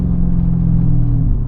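A Mercedes SL55 AMG engine gives a short, close rumbling rev as a paddle downshift blips the throttle, a steady low drone that drops in pitch near the end.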